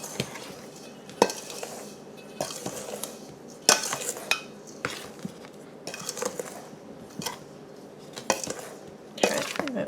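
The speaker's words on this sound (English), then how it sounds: "I'm going to stir up my dry ingredients before I add my wet" Repeated scraping and clinking of a utensil against a bowl as dry ingredients for sourdough potato bread are stirred, with irregular knocks throughout.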